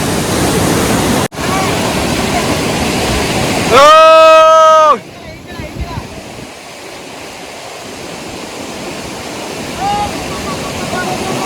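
Clear river water rushes in a steady, loud wash at first, broken by a brief harmonic tone, then the flow continues more softly at a distance as a voice speaks.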